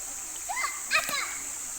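Children splashing in a shallow stream at a picnic area, with brief soft splashes and high young voices over a steady background hiss.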